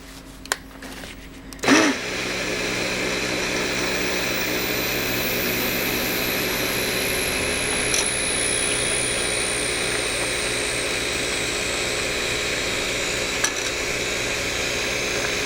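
A stick blender on low whirs steadily through soap oils mixed with lye, starting with a short bump and then running as a continuous, fairly loud motor drone with no talking.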